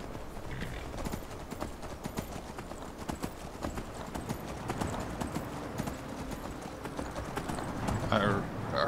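Horse hooves in Skyrim clip-clop in a steady rhythmic trot, moderately loud, with a brief whinny near the end and no one speaking.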